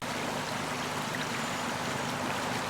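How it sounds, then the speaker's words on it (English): Mill Creek flows through Turner during a town celebration, a steady dense rushing of water heard close and constant throughout with no talk over it. "And there's Mill Creek as it flows through Turner."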